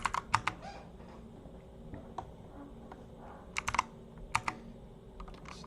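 Keys clatter on a computer keyboard as commands are entered in a Linux terminal, with quick bursts of close clicks separated by pauses over a low steady background hum.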